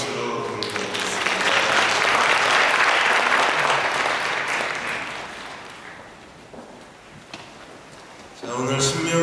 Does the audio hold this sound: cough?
no